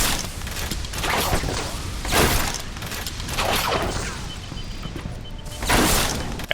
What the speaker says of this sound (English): I'm going to go ahead and start shooting a few trap bolts here and there.